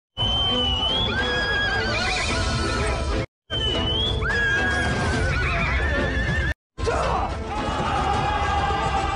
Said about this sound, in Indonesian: kuda yang digunakan pihak musuh tiba-tiba tidak terkendali dan menjadi liar